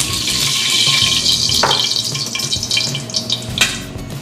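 Water runs and splashes for a few seconds in a kitchen, poured to soak rice noodles for pad thai. The pouring is close and fairly loud, with small clatters and stirring noises and no talk.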